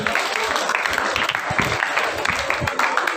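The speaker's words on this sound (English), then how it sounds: "Please give them a round of applause." An audience at the Josephite Festival 2025 applauds choral recitation winners, with a dense, steady burst of clapping from many hands, close and loud throughout.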